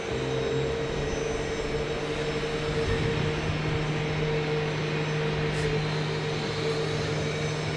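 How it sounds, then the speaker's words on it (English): A steady, droning Airbus A321neo jet engine hum with a constant whine, continuous and unbroken throughout, at Phoenix Sky Harbor airport. "I hear an A321neo engine right there."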